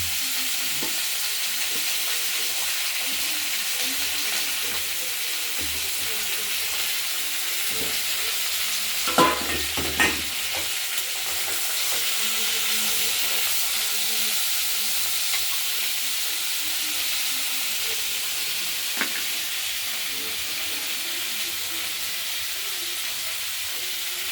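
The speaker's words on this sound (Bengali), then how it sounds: "তেলটা গরম হয়ে গেছিল সেইগুলোকে আমরা প্রথমে ভেজে নেব তেলে" Ingredients frying in hot oil in a pan, a continuous close hissing sizzle with a few sharp utensil knocks and clatters partway through, no voices.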